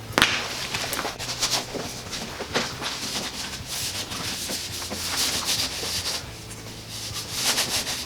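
A cloth rubs over a Corvette C5 ZR1 front bumper with wax and grease remover, giving steady close scrubbing and wiping strokes that run continuously with brief louder swipes.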